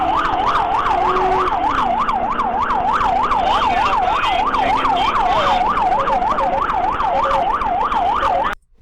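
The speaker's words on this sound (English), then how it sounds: "your siren's going off" Police car siren wailing steadily in a fast rising-and-falling pattern during a high-speed pursuit, loud and close over engine and road noise, cutting off abruptly at the end.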